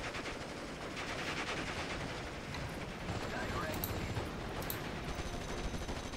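Machine gun fire in the WWII Normandy hedgerow battle of Steel Division: Normandy 44 rattles in a dense, continuous stream, loud and close amid a constant din of battle.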